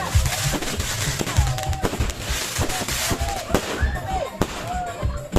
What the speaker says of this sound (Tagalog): Mao nang nasayra nato ang ilahang fireworks display karon.